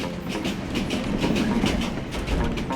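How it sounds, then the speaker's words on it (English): A passenger train in Myanmar, running out of Yangon at dusk, rattles along at speed, with loud, rhythmic clickety-clack of wheels over rail joints and a steady rumbling roar close by. "the train picks up speed"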